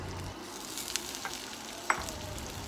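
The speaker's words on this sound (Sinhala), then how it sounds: "රත් වෙගෙන එද්දී මම මේකට එකතු කරගන්නවා ලූණු." Chopped onions sizzling in hot oil in a pan for a canned salmon fish curry, a steady soft frying hiss with a few faint clicks and pops, close and fairly quiet with no talking.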